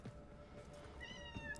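A cat meows once, quiet and fairly clear, over a faint background hum.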